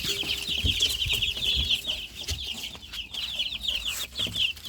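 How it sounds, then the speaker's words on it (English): Baby chicks, a mix of young layer chickens, cluck and peep in a garage, giving a steady, busy chorus of high chirps that are close and fairly loud, with no talking. "Let's see what the chickens are up to."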